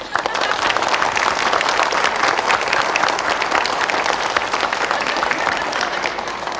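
Applause in a parliament-style comedy show, a dense, sustained clapping from a crowd, loud and even throughout with faint voices underneath.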